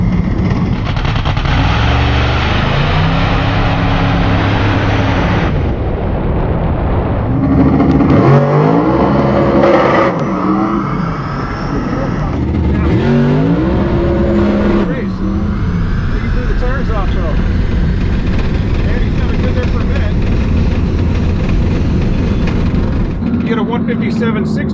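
A COPO Camaro on launch control runs a quarter-mile drag race against a Tesla Plaid. A loud engine revs and roars through repeated rising acceleration sweeps as it pulls away, with speech heard over it.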